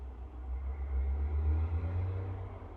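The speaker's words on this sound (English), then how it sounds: "And a loud truck goes by." A heavy truck rolls past outside as a low, rumbling drone that swells and then eases over a few seconds, muffled and somewhat distant, with no speech.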